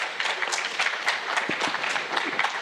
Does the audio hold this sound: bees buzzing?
no